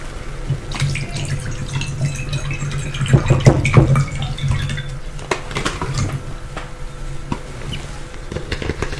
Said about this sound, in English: I'm going to fill the bowl up with some water.